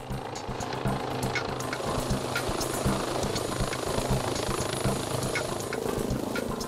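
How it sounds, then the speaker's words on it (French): A civil security helicopter approaches to land on a motorway, its rotor thumping in a steady rapid beat at moderate distance, continuous throughout. "Quelques instants plus tard, l'hélicoptère de la sécurité civile arrive sur place."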